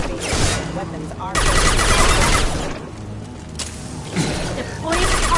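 Mass Effect 2 gameplay carries sustained bursts of rapid gunfire with brief pauses between volleys, loud and dense, mixed with mechanical clatter and a voice talking over it.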